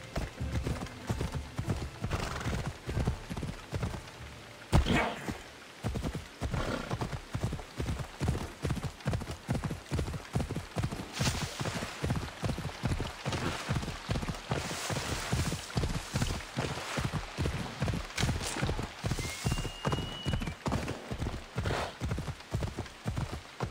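Horse hooves galloping in a steady, fast clip-clop rhythm across open ground in Assassin's Creed Odyssey, close and continuous, with a brief neigh and faint ambient game sounds behind.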